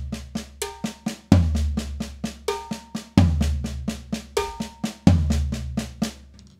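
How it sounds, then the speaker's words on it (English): Drum pattern on snare, cowbell and floor tom in a paradiddle drumming game: crisp, evenly spaced hits with ringing cowbell notes and a deep floor-tom boom every couple of seconds, played alone and up close. "fourth note on the floor tom sounds like this"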